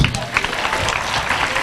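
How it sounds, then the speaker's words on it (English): An audience at a secondary school brain challenge competition gives a student a round of applause, a dense, continuous patter of many hands clapping at once throughout. "Let us give her also a thunderous clap."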